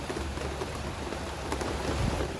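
Steady rain shower falling on a garden, a dense continuous patter of drops on plants and soil, even and fairly loud throughout with no voices.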